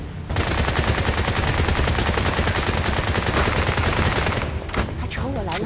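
Rapid, continuous automatic gunfire from a PC video game played on a Realme X7 Max phone, loud and dense for several seconds, then fading as a voice speaks.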